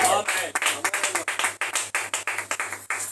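Congregation clapping in steady rhythm during worship at a youth Friday service, about a dozen sharp claps over low background music.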